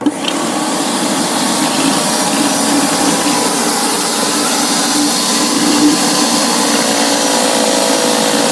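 A Graco Magnum Project Painter Plus airless paint sprayer runs steadily at close range, its pump motor giving a continuous mechanical whir with a faint rhythmic pulsing throughout, no talking over it.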